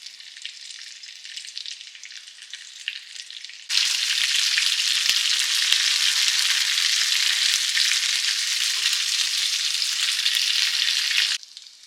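Cube steak fries in beef tallow in a pan, a soft sizzle that suddenly swells into a loud, dense crackle that holds steady for about eight seconds and then drops back to a quieter hiss.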